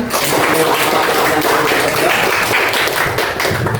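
A school audience claps for a class presentation, a loud, dense wash of applause sustained evenly with no talk over it.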